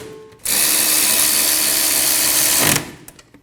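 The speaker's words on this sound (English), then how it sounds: "Snug the bolts down." A power tool snugs down the caliper bracket bolts on a 2008-2015 Scion xB during a rear caliper replacement. One loud, sustained whir runs for a little over two seconds and then stops sharply.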